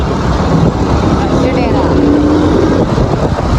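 A motorbike ridden outdoors near Peshawar, Pakistan, with a steady engine drone and heavy wind rush over the microphone throughout, close and loud, and no clear talk.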